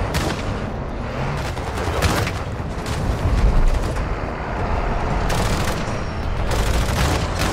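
Gunfire in a video game firefight, with repeated loud shots and bursts cracking over a constant battle din, some volleys clustered close together across several seconds.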